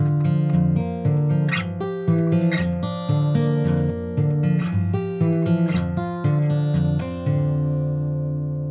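Country blues fingerpicking on acoustic guitar, a steady alternating bass under picked melody with added filler notes, played alone at a relaxed, even pulse with clear plucked attacks.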